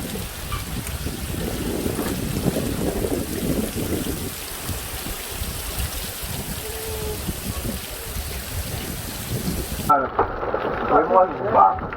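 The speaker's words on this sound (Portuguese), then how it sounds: "Olha a chuva, como chove aqui nessa terra." Heavy rain with thunder in the Amazon, a loud, dense roar of downpour with low rumbling underneath, shifting in tone near the end.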